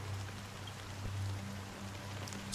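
Steady, soft rain falls in the Honkai Star Rail video game, a gentle continuous patter over a low hum with no talking, ending in a sudden sharp burst of sound.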